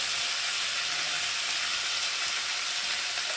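Green chili paste and tomato are stirred into a sizzling frying pan, giving a steady, moderately loud hiss and crackle with no voices.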